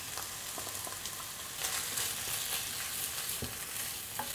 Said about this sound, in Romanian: prin a turna ulei de floarea soarelui în tigaie, peste care adăugăm ghimbirul și usturoiul